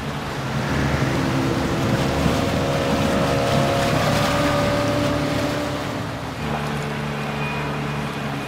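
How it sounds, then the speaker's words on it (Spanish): Motorboat engine in Call of Duty: Modern Warfare II, a steady loud droning hum over rushing water and wind, continuous and close with a slight shift in pitch near the end. "Esa es su lancha."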